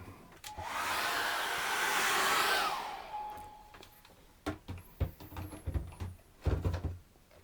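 A hair dryer blows steadily for about three seconds to dry acrylic paint on a winter scene painting, then cuts off, followed by scattered clicks and light knocks nearby.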